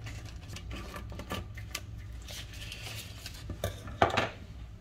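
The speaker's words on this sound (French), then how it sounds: "J'en profite pendant qu'elle est à plat pour couper" A knife or cutter trims the edges of rolled tart pastry dough for a bacon and onion tart, giving faint light scraping and tapping on a hard surface, with a sharper clatter near the end.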